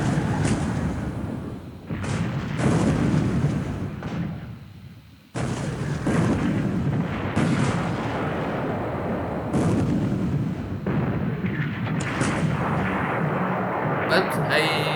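Naval artillery fire and 5-inch shell hits in the War in the Pacific strategy game ring out as repeated booming blasts and bursts, moderately loud, spaced across the stretch, with someone talking over them.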